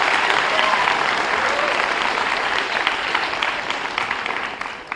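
An audience at a school speech night gives sustained, fairly loud applause for the first-place speech and debate team, tapering slightly near the end.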